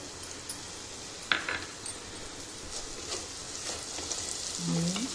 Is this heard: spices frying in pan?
yes